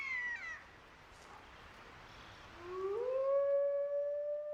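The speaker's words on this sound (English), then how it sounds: "Howling, the wolf call to arms, gathers the pack and warns other wolves to back off." Wolves howl in the Siberian wilderness. A long, falling wail fades out, and after a hushed gap a second howl rises and holds steady and loud against faint background hiss.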